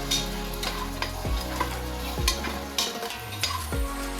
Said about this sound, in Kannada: ಈಗ ತುಪ್ಪ ಎಲ್ಲ ಕಾದ್ಮೇಲೆ ಅವರೆಕಾಳು ಹಾಕ್ಕೊತಾ ಇದ್ದೀನಿ.